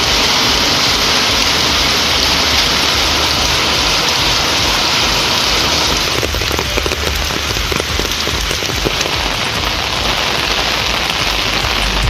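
Heavy rain pours steadily over the Thirukkuvalai area of Nagapattinam district, a dense continuous hiss that stays loud and unbroken throughout, with no voices.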